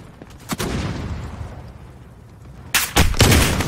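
Gunfire in Call of Duty Modern Warfare, a few sharp isolated shots early, then a quiet rumbling lull, followed by a cluster of louder booming shots near the end.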